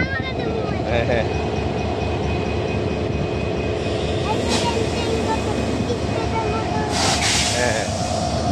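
At a rail workshop, a locomotive rotating on a turntable gives a loud steady engine drone with a sustained tone, rattling texture and a few sharp metallic hisses or squeals, while people talk nearby.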